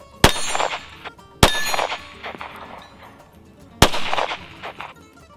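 Three sharp 9mm pistol shots fired with Shell Shock cases and coated bullets, loud and close, each with a ringing, clanging tail as it dies away, spaced about a second and more apart.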